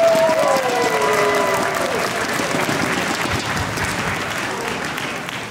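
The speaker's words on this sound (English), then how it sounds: "please give them a round of applause for helping make the Korean Culture Show possible." Audience applause at a Korean Culture Show, a dense, steady wash of clapping from a crowd that slowly tapers over several seconds, with a brief tonal sound and some murmuring near the start.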